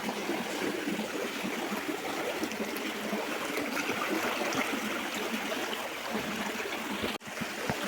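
A small stream of water runs steadily in a rural setting, giving a constant close trickling and burbling that lasts throughout the clip, with no voices present.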